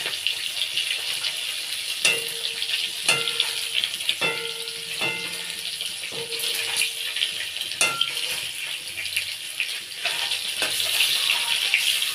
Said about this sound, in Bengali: এখন পটল ভাজা তেলের মধ্যে সিদ্ধ ডিমগুলো দিয়ে ভেজে নেবো